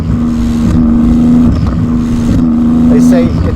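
Steady engine drone from a Porsche GT2 RS tuned beyond 1000 hp, its exhaust holding a sustained tone with slight pitch shifts and a short blip near the end, heard up close beneath speech.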